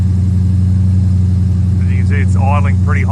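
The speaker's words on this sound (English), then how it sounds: "it's idling pretty high at the minute" A Ford F-truck engine idles high with a steady, loud low hum that holds throughout, while a person speaks briefly over it near the end.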